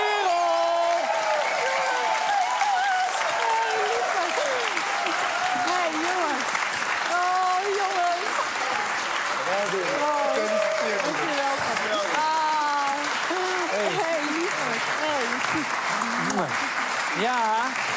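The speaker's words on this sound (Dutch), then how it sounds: "Mag ik een applaus voor verliezend finalist Niels, winnaar Sarah" A studio audience at the finale of the Dutch game show Wie is de Mol applauds the finalists in loud, sustained clapping and cheering, with voices talking and exclaiming over the applause throughout.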